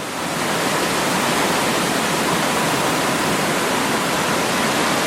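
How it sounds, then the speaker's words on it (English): Western Creek Falls, a roughly ten-metre waterfall on a Tasmanian hiking trail, roars loud and close as a dense, unbroken rush of falling water, steady for the whole stretch with no voices. "I've arrived at the impressive Western Creek Falls."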